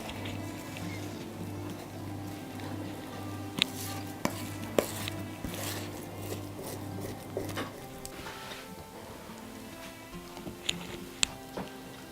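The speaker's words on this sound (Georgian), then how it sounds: "ცოტას ამოურევთ და დავამატებთ თქვილს" Easter paska batter with cognac and risen starter being stirred in a bowl, giving repeated soft scraping and clinking strokes at close range, with a steady hum underneath and a few sharper knocks later on.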